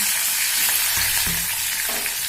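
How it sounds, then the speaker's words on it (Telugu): Green chillies and curry leaves frying in oil in a pan for a carrot fry, with a loud continuous sizzle close by and a few spatula scrapes and knocks as the mixture is stirred. "పచ్చిమిర్చి, కరివేపాకు వేసి కలబెట్టాలి"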